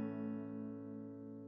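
A major chord strummed once on an acoustic guitar rings out alone, its sustained tones slowly fading over a second and a half.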